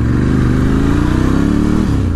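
A 2018 Ducati Scrambler 1100 Special with the air-cooled Evo Monster-derived engine, revving loudly on a test ride, a steady throbbing drone that rises then dips near the end, close and dominant.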